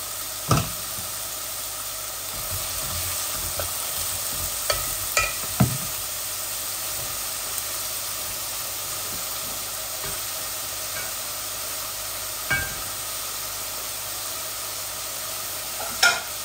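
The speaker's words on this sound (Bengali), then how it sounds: "মিটের অনিয়নগুলা হোক আস্তে আস্তে" Lamb meat and onions fry in a pan with a steady sizzling hiss, broken by occasional scraping stirs throughout.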